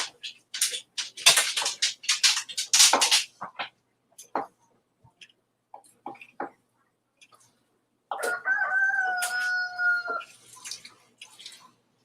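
Roosters crowing in the morning from the background of a kitchen where a beef roast is being prepared. After sparse scattered clucks and knocks, one long, drawn-out crow rings out clearly, then trails off into softer noises.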